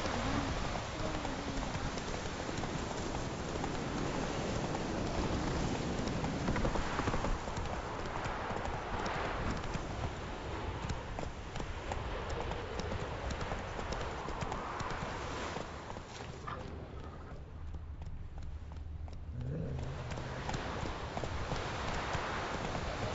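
Roach, a horse in the video game Witcher 3, gallops with steady, rapid clip-clopping hoofbeats, close and continuous, over a dense wash of ambient game noise that thins out briefly near the end.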